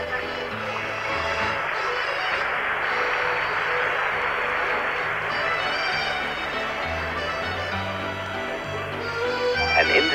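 An audience in the Eurovision Song Contest concert hall in Jerusalem, 1979, applauds steadily for about ten seconds over sustained music, a broad wash of clapping that swells slightly near the end.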